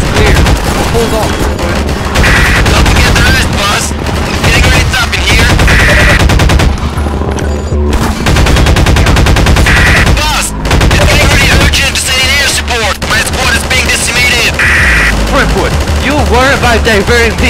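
Enemy gunfire in the Half-Life 2 mod Rebellion, a dense, continuous barrage of rapid automatic shots and bursts with booming impacts that runs loud throughout, with voices shouting over the combat.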